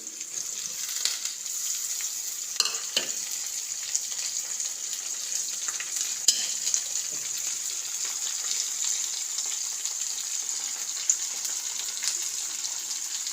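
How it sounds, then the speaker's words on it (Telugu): Chopped ivy gourd pieces with curry leaves fry in a pan, giving a steady, close hiss of sizzling oil with a few faint clinks and stirring knocks. "ఇప్పుడు తరిగి ఉంచుకున్న దొండకాయ ముక్కలు వేయాలి"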